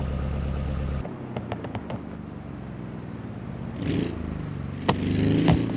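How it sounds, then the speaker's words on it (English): A Gambler Piccolina dragster with an SBR4 engine and no mufflers in the BeamNG driving game: a loud buzzing drone cuts off, then a rough idle with scattered clatters and a rising rev near the end. "It has an SBR4 engine with no mufflers and is loud enough to be quite annoying"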